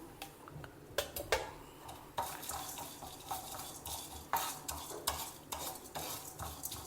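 Chana dal and methi seeds dry-roasting in a pan, with repeated scraping and clinking strokes of a spoon stirring them in an irregular rhythm over a faint hiss.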